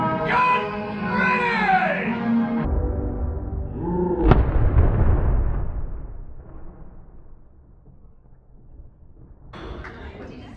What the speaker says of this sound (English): Noonday gun's gonna go off soon